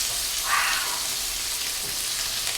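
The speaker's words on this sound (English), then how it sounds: "the impossible meat is browning up beautifully" Impossible meat browning in a pan with soy sauce, a steady even sizzle and fry hiss lasting throughout, close and fairly loud, with no voices.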